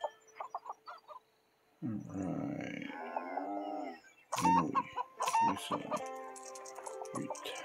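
Chickens in the farming game Farmville 3, with a burst of clucks and a rooster-like crow followed by bright game chimes and music-like tones, loud and close.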